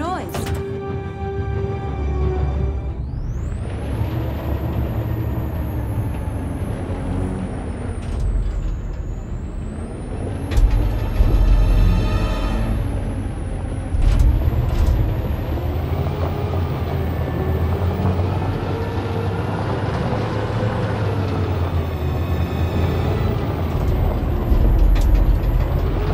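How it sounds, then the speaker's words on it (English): In the Detroit: Become Human video game, a truck engine rumbles low and steady, with sharp air-brake hisses rising over it. Voices are heard at times. "Let's get that truck out."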